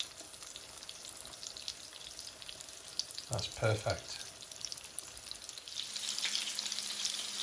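Chicken schnitzel sizzles steadily as it fries in a hot pan, a continuous crackling hiss with a brief louder burst of bubbling midway. A voice speaks briefly over it.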